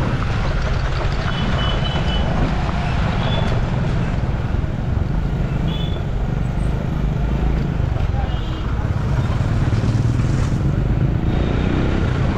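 Busy road traffic roars steadily as motorbikes and other vehicles pass on a crowded road near Devgiri fort in Sambhajinagar, a loud, continuous rumble with faint horns, heard from a moving bike.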